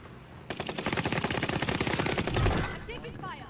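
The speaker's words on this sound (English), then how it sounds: "I'm taking fire." Rapid automatic gunfire aimed at the player in a video game, a dense loud burst of shots lasting a couple of seconds that then tapers off, with a little game noise after.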